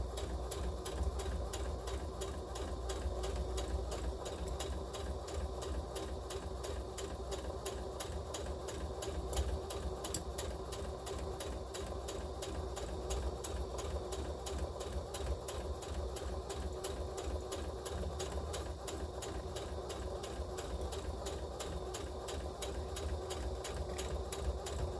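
A sewing machine stitches across the bottom of a fabric tote bag made as a child's reusable gift bag, a steady, fast mechanical whirr running nonstop at close range.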